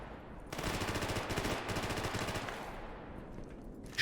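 Automatic rifle fire in the game Stalker Gamma: a sustained rapid burst of rattling shots for about two seconds, then continued distant crackle fading out, with a sharp report right at the end; no talking.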